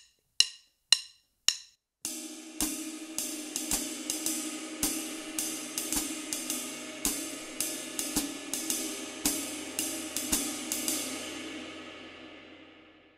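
Jazz ride cymbal playing a swung pattern with paired groupings landing on beats three and four, a few isolated opening strikes, then a steady shimmering wash of rhythmic pings, close and alone with no talking.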